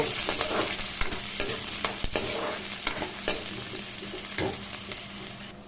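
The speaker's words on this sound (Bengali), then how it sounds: "এবার দিয়ে দিব পেঁয়াজ একটু ভালো করে নাড়িয়ে দেব" Onions fry in hot oil with cloves, cardamom and cinnamon for a chicken curry while a spatula stirs them, giving a steady sizzle broken by repeated sharp scrapes and knocks against the pan, with no speech.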